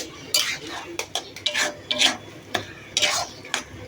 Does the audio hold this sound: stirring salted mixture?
yes